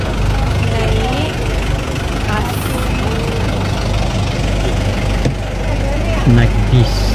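A luxury coach bus idles with a steady low engine rumble throughout, while voices talk over it close by.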